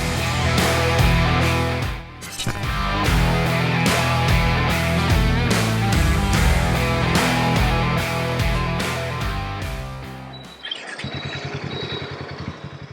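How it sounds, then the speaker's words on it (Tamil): A 440cc cruiser motorcycle engine runs during a test ride with a loud, steady, throbbing rumble. It dips briefly once, then holds and finally shifts to a rougher idle-like beat near the end. "ஆனால் நல்ல ஒரு க்ரூசர் டைப்லேயே ஒரு சவுண்டு கிடைக்குது"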